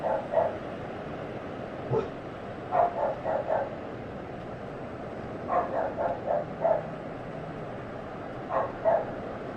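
A dog barks repeatedly indoors in short clustered bursts of two to four yaps, spaced a few seconds apart, fairly close and moderately loud over quiet background.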